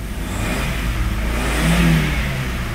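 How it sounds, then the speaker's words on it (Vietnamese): Engine of a 2009 Chevrolet Captiva running after start-up, a loud steady low rumble close by that swells slightly as it revs, with no talking. "Máy đồ đề máy nổ nè"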